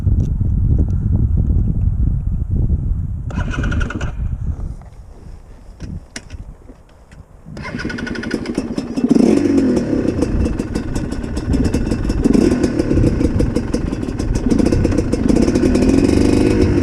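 GPX TSE 250R motorcycle engine idling, dipping briefly, then pulling away with a loud rising rumble close by, mixed with wind noise.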